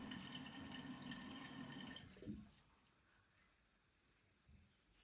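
Water rushes steadily into a Roca concealed toilet cistern for about two seconds after a leak repair, then cuts off, leaving faint drips and quiet trickles.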